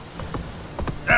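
Roach, the horse in The Witcher 3, clip-clopping in a short run of hoofbeats, moderately close and fairly quiet, ending on a sharper sound.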